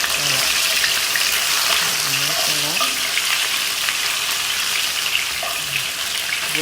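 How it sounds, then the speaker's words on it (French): Onions frying in very hot oil for a rice dish, a constant bright sizzle with occasional stirring scrapes and faint voice murmurs underneath. "Dans de l'huile bien chaude, j'ai mis mes oignons."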